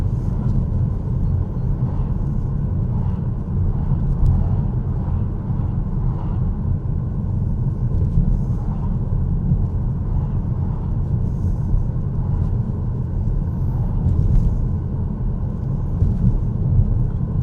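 A car engine drones steadily from inside the cabin as it pulls up a slight incline, a loud, even low rumble throughout with no clear gear change or voices.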